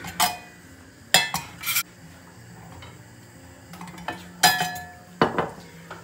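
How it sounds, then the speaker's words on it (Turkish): A metal pancake pan set down on a home kitchen stove, heard as a few sharp clanks and clinks in separate bursts with quiet gaps between, close and fairly loud, with no talking. "Pankek tavamı koyuyorum."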